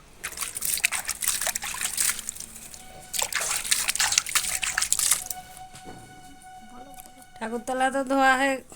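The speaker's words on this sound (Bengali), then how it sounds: "দেখো ভালো করে হাত দিয়ে দিয়ে জলটা ঢেলে দিলাম" Water poured by hand to wash a shrine floor, splashing and trickling in bursts between pauses, with a voice speaking near the end.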